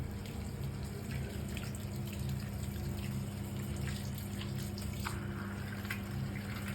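A kitchen tap runs steadily for the whole stretch as dishes are rinsed, a continuous close splashing wash of water with small drips and clinks.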